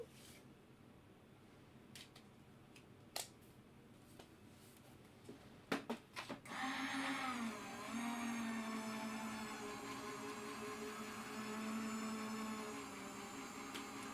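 A die cutting machine runs a crafting die through, a steady mechanical whirring hum that starts abruptly after a few scattered clicks and handling taps, holding at a constant level to the end.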